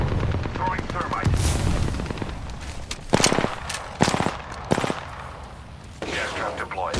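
Gunfire in the video game Apex Legends: rapid automatic bursts and sharp single shots crackle over continuous battle noise, with a few louder close volleys between sustained firing.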